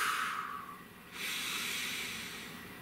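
A person breathes deeply: a long airy inhale fades out, then after a short gap a breathy exhale hisses steadily. Both are close and soft, with no talking.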